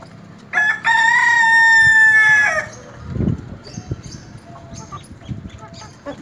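A golden Misri rooster gives one loud, drawn-out crow of about two seconds, followed by softer scattered clucks from the hens nearby.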